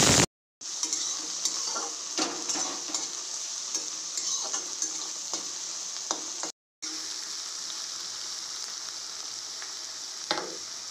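Onions fried and stirred in a pan over tempered cumin, bay leaf and dried red chillies for potato dum, giving a steady close sizzle with scraping stir strokes, briefly dropping to silence twice.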